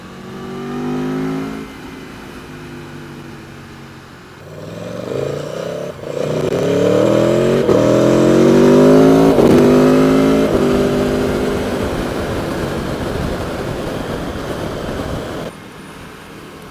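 A 2019 Aprilia Tuono 1100 Factory motorcycle is ridden on the road, its engine loud and close as it climbs through rising revs several times, then settles into a steady drone with no speech.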